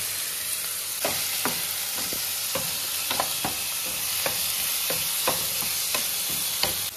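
Green masala paste sizzling steadily in a pan while a spoon scrapes and stirs it, sharp clinks of metal on the pan coming at irregular intervals over a continuous fry hiss, with no voices.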